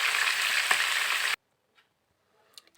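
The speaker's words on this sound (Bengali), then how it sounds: "আমি এভাবেই চিকেনের পিসগুলোকে সবগুলোকে ভেজে নেব একটু একটু ব্রাউন কালার করে।" Chicken pieces fry in hot oil until browning, giving a dense, even crackling sizzle close up for over a second before it cuts off abruptly into near silence with a few faint clicks.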